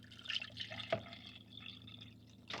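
Water poured into a container for mixing a big scoop of creatine, a faint low trickle and drip with a brief splash near the middle and another at the end.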